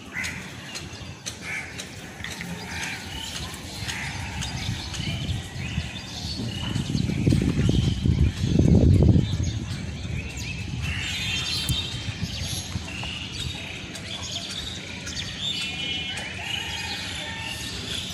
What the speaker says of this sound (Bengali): সকালের যে পাখির কিচিরমিচির আওয়াজটা কিন্তু খুবই ভালো লাগে